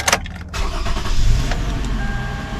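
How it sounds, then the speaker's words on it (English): A 2010 Toyota Sienna engine cranks briefly and catches, settling into a loud, close idle with a steady hum and no talk. "Now we're going to start up the engine. Starting up the engine."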